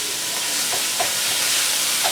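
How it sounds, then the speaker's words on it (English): Beef frying in a pan for broccoli beef, a loud, continuous close sizzle with bursts of hiss and a few clicks of stirring. "while this is frying"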